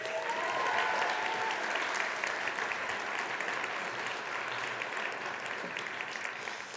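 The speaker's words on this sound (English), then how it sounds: "Maybe just one more round of applause for the Boys and Girls Club" Audience applause for the Boys and Girls Club at a winter speaker event at Alpenglow Sports, steady dense clapping from a large crowd that stays loud throughout and fades slightly toward the end.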